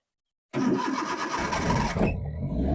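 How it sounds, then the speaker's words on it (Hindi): After a brief silence a parked car's engine cranks and catches after two days of sitting, then settles into a steady idle, close and fairly quiet. "अभी मैं भी गाड़ी को अनलॉक करता हूँ और स्टार्ट करता हूँ।"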